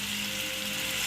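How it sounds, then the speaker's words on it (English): Vegetables sauté in a pan with a steady, soft hiss of sizzling oil, faint and continuous through the brief moment. "Some saute vegetable"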